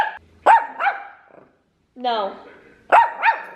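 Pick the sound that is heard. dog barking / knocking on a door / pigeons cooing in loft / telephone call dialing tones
dog barking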